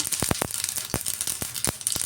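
Mustard seeds pop and crackle in hot oil during tempering for vaghar, a quick run of sharp, irregular snaps over a steady sizzle, close and fairly loud with no talking.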